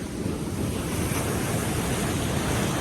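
Ocean waves crash and churn during a nor'easter storm, heard up close as a loud, continuous roar buffeted by heavy wind noise on the microphone.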